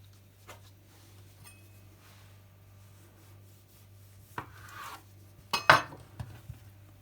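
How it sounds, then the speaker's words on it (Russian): Several soft clatters and taps as cut poppy-seed buns are placed on a metal baking tray, with a louder cluster of clunks near the end over a steady low hum. "быстро выкладываем их на противень"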